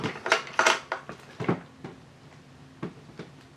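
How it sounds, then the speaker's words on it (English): An OMISOON dehumidifier is lifted out of its plastic bag packaging, giving a close run of crinkly rustles and light knocks that are busiest at the start and thin out into scattered soft handling sounds. "So let's lift it out from the plastic bag packaging,"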